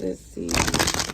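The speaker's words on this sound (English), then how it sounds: "I did shuffle a few times" Tarot cards being shuffled in quick riffling bursts, a crisp papery flutter that follows a few moments of soft speech from a woman nearby.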